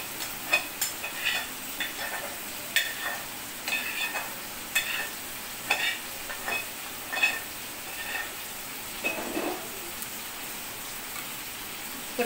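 Egg and pointed gourd fry in a pan as they are stirred, giving a steady close sizzle broken by irregular scraping clicks from the spoon, with no talking.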